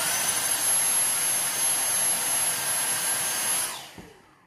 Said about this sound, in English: Then get your hoover and hoover it again.